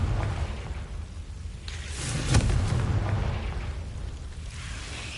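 A Confringo fire spell blast in Hogwarts Legacy, a sharp whooshing burst that swells into a rumbling boom and fades, with a second softer burst before it, no speech.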